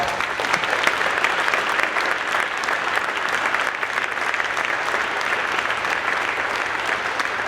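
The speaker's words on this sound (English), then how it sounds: "So let's give him a giant round of applause." Audience applause fills a luncheon hall at a YMCA event, a steady, dense wash of many hands clapping at once, sustained evenly throughout with no talk over it.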